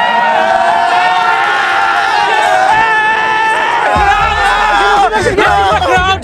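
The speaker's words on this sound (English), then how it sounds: "crowd" A crowd at a 7-a-side football tournament between NRNA Portugal-area teams, Nepzum and NRNA Belgium, keeps up a loud, steady chatter and cheering, with voices shouting over the babble.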